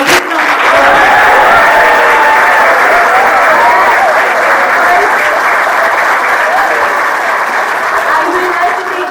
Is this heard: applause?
yes